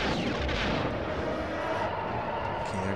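Proton torpedoes firing and detonating in the Star Wars Rogue Squadron video game: a steady, dense barrage of booming blasts and rumbling explosions fills the whole stretch, loud and continuous with no pause.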